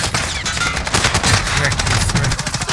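Rapid automatic gunfire from the video game Warzone crackles in dense, continuous bursts, close and loud, with overlapping shots giving a fusillade-like rattle throughout.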